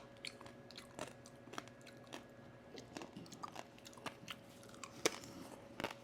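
Crisp crackling bites and chewing of whole roasted native pig skin, lechon baboy, come in irregular crunchy bursts close to the mic, fairly quiet with no talking.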